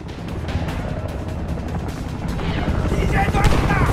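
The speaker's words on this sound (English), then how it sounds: "Start shooting! Two of them! Coming over the fence! Aim for the head! Make every bullet count!" Rapid gunfire rattles without a break in the shooter Homefront, loud and close, with bursts layered over a steady rumble and shouting voices mixed in.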